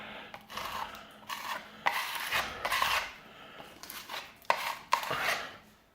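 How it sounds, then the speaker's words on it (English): A trowel scrapes and presses filler into holes with close, irregular strokes, each a gritty rasping smear, separated by brief pauses and free of any talk. "You've got to get a corner of your trowel and actually put it in there"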